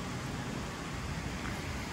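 Steady rain falls during a heavy Texas rainstorm that is starting to ease off, making a continuous dense hiss of drops with no pauses and no voices.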